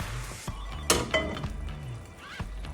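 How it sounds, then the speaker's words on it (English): A ladle scrapes and clinks against a pot of broth with pork ribs and bones for Vietnamese thick noodle soup, a few sharp knocks among soft stirring swishes, close and without talk. "So you wanna give it a good stir, make sure everything, all the flavor gets all incorporated with your pork ribs and bones"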